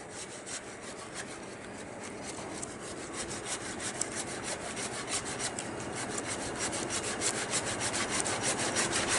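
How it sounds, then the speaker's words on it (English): A hand saw cuts through a large wooden log at an auction in steady back-and-forth strokes, rasping rhythmically and growing slightly louder and faster toward the end. "Why don't you give it a go on the saw, Russell?"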